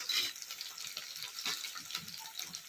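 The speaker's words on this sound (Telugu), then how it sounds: "ఆ పులుసు పోసుకోవాలి" Soaked tamarind water is poured into a taro curry in the pot, a soft, faint, continuous liquid trickle with light splashy texture.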